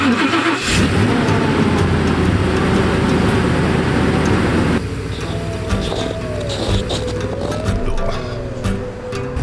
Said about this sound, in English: I'm gonna start the truck because it's frozen solid from this last snowstorm we got